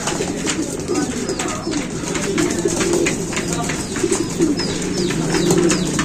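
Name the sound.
racing pigeon cooing while being fed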